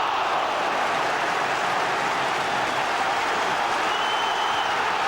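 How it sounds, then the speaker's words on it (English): Football crowd at a UEFA Cup match between Liverpool and Genoa erupts after a good save: a dense, sustained roar of cheering and clapping from a large stadium audience, loud and unbroken. "That's really got the crowd going."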